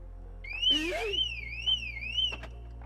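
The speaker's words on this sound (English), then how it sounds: "make any motion inside of the car, it should raise the alarm" A motion-triggered car alarm siren installed in a Laura car wails in a rising and falling pitch, loud and steady for a couple of seconds, with a brief thump near the start.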